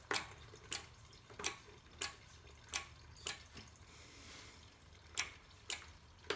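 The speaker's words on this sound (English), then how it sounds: "as soon as all this gas drains out, it's almost drained" Gasoline draining out of a lawnmower, falling as a steady run of separate drips, roughly one every half second, faint and close, with a soft trickle between drops.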